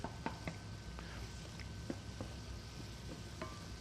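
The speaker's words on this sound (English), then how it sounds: "a lot of the fat, a lot of the oil from that butter is starting to cook down here" Butter sizzling and cooking down in a pan for a pear Alfredo sauce, a quiet steady crackle with occasional soft stirring taps, no talk.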